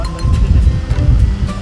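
Strong outdoor wind gusting against the microphone, a loud, continuous low rumble and buffeting with no voices, recorded on a village film set.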